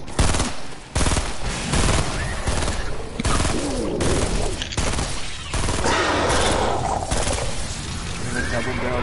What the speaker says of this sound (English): I'm just shooting zombies